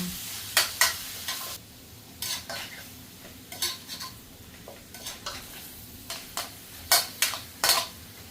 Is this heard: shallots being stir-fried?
yes